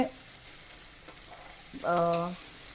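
Faint, steady frying hiss with a couple of soft scrapes, ending with a brief tonal squeak as something is stirred in the pan.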